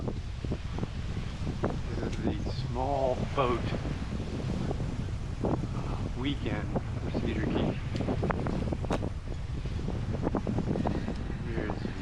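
Wind roars steadily across the microphone on a bike ride through Cedar Key, a constant rough buffeting that runs throughout while someone talks over it and faint clicks and bird chirps slip through.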